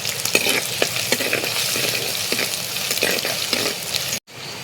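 Ginger and garlic fry in hot coconut oil in a pan, giving a loud, steady sizzle with crackling spatter and stirring scrapes that cuts off abruptly near the end.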